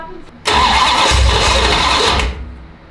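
A Dart race car engine cranks and catches, roaring loud and close for about two seconds after being given a good dose of fuel, then cutting back down.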